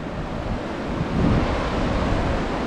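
Colorado River water washing at a small beach at the mouth of Lower Cathedral Wash, a steady broadband rush with wind buffeting, swelling slightly midway.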